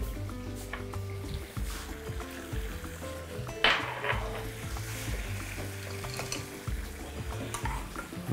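Flour sizzles and fries in melted butter in a pan while being stirred, with a steady crackling hiss, soft scraping stirs and one sharper clink partway through, no talking.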